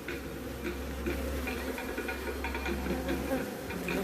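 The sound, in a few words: honey bees buzzing in extracting room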